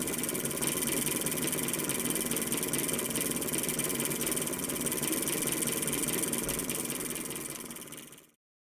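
Small homemade simple electric motor running, a steady buzzing whir held close and even for about eight seconds before cutting off abruptly.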